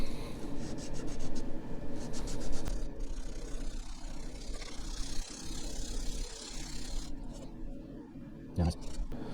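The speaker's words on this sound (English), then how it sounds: "We've sanded it a little bit." Hand sanding of a wooden slide rule backing: a steady, close scratchy rubbing runs through the whole stretch, with a brief knock near the end.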